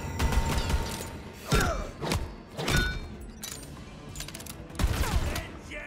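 Jakobs pistol shots in the fantasy shooter game Wonderlands, a handful of punchy, separate reports spaced irregularly over several seconds, mixed with thuds and mechanical clatter.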